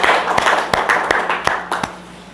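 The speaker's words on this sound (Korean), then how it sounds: "우리 환영의 박수를 하겠습니다" A church congregation claps to welcome a deacon at a Sunday service, a steady patter of hands with a few sharper, louder claps punctuating the rhythm over roughly two seconds.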